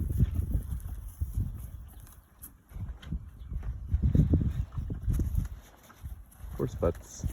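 Horses walking on a farm, hooves clip-clopping in an irregular rhythm at moderate distance, with someone talking over them and wind in the background.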